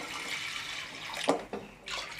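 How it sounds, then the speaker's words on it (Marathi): Water is poured into a pot of washed toor dal, a steady rushing splash with a couple of sharper gurgles and a brief pause near the end. "त्याच्यामध्ये पाणी घालून घेते"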